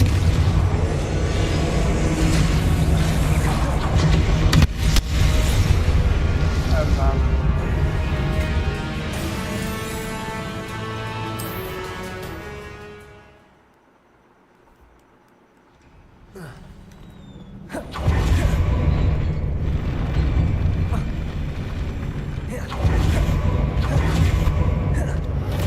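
Confringo blasting spells burst in Hogwarts Legacy combat, heavy booming explosions layered over a dense, loud rumble that drops to near silence midway, then returns with a sharp crack and more roaring blasts.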